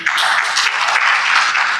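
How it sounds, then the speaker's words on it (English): Audience applause for someone speaker at a healthcare policy panel, a brief, steady burst of clapping from the room with no talk over it. "A round of applause for her,"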